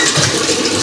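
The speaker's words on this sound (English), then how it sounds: "So finally guys, the water come out through this hand pump." Water gushes from a ground hand pump in a brief, loud, steady splashing rush.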